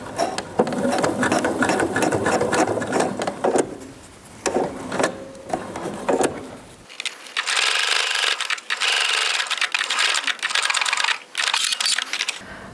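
A sewing machine running stitches along a seam of a fabric face mask where elastic is already sewn in, a rapid mechanical rattle in bursts with short pauses between runs.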